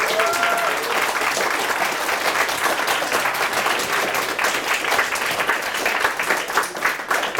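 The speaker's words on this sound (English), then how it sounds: "So I really want to hope you can give them a clap and say thank you to the volunteers." An audience at a university game jam's closing talk claps for the volunteers, a dense, sustained wash of applause holding steady throughout with a few individual claps standing out near the end.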